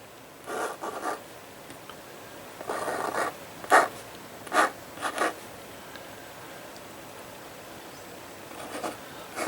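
A black Chalkola chalk marker tip scratches across a surface in short, separate bursts of dry scraping strokes with quiet pauses between them.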